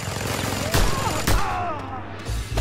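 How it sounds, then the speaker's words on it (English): Mounted gun in the video game Just Cause 2 fires a few sharp, booming shots in scattered bursts over a constant background of game ambience and faint voices. "Curses! Another mounted gun!"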